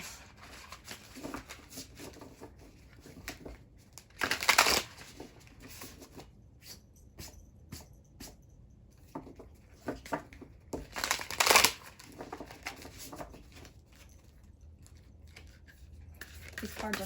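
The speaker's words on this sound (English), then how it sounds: "These cards are hard for me to shuffle," Large oversized cards are shuffled by hand in two sharp riffling bursts, with quieter rustling and handling between them up close.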